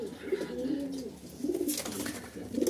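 A quarrelsome pet pigeon coos in low, throaty bursts, two or three rolling phrases close to the listener with some faint background noise and no talk.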